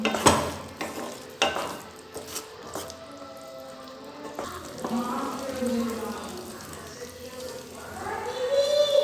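Mixed dal of three lentils including green peas being stirred in a pot for dal makhani, scraping and wet sloshing with a soft sizzle, loudest toward the end, with a voice speaking partway through.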